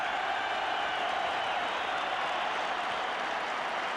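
A football stadium crowd at a 1989 Republic of Ireland versus West Germany international keeps up a steady roar of cheering and applause, broad and constant throughout with no break.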